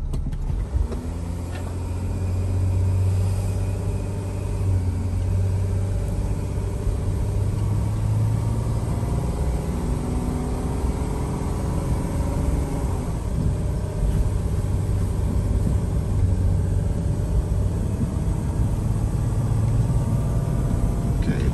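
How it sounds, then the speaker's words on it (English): 2008 Dodge Sprinter diesel van engine with the gas pedal floored during DPF regeneration, a loud steady low rumble that holds for about twenty seconds with only slight rises and dips in pitch. "watch what happens when I press the gas pedal all the way down"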